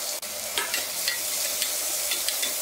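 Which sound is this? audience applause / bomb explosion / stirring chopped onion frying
stirring chopped onion frying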